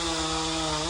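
A chainsaw cuts wood in the taiga, its steady, loud engine whine holding one pitch throughout with a strong harmonic drone and no voices.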